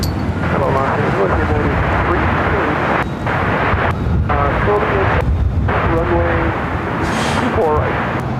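A jet airliner rumbling at Los Angeles LAX airport, a steady loud roar that persists through the whole stretch, with wind buffeting the microphone and radio chatter faintly underneath.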